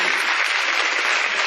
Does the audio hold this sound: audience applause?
yes